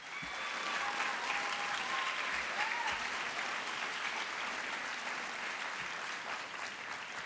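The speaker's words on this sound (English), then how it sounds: "Let's give them a big round of applause for how they look." Grade 8 students at a middle school promotion ceremony receive a big round of applause from the audience, a steady, dense wash of clapping that holds for about seven seconds at moderate loudness.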